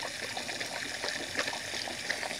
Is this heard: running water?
yes